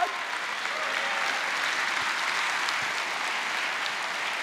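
A church congregation applauds during a sermon, a dense, steady wash of clapping from a large crowd that holds evenly from start to finish.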